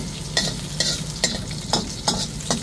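Garlic fries in oil in a pan with a steady sizzle while a utensil stirs it, giving regular scraping strokes about every half second, close and fairly loud, with no talk over it.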